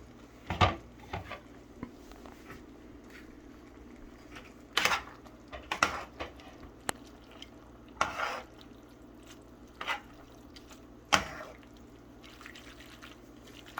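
Spaghetti being stirred in a massive pan gives a series of sharp wet clanks and scrapes at irregular intervals, moderately close, over a low steady kitchen hum.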